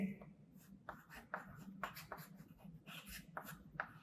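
Pen or pencil scratching across a drawing sheet during a geometry scale lesson, a soft close-up run of short strokes with brief pauses, quiet and steady with no talk over it.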